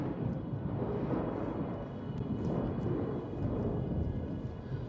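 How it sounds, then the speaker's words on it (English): Thunder in a video game, a steady, deep rolling rumble that keeps going with a few faint ticks on top and no clear single crack. "That does sound like thunder."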